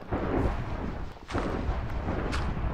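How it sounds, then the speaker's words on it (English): Two or three deep, booming blasts in quick succession, rumbling low and fairly loud: creeper explosions in Minecraft. "Is that a creeper explosion?"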